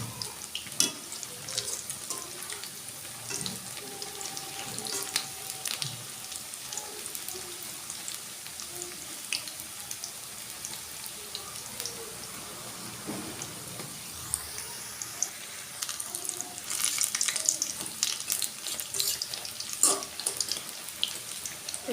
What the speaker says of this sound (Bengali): এভাবে দু পাশটাই সুন্দর করে ভেজে নিতে হবে